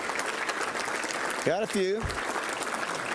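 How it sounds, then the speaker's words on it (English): Banquet audience at a Little Rock Touchdown Club awards dinner applauding the board and founding members, a steady wash of clapping throughout with a brief spoken remark near the middle. "let's recognize and give a round of applause to our board members or a founding member of the Touchdown"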